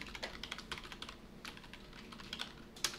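Quiet, quick keystrokes on a computer keyboard while Python code is entered, with irregular bursts of clicks and a sharper key press near the end.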